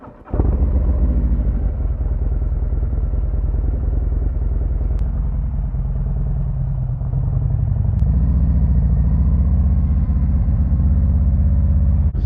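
A Harley-Davidson Road Glide ST fitted with a 131 kit cranks briefly, then catches and settles into a loud, close, deep idle with a steady lumpy rumble that swells slightly later on.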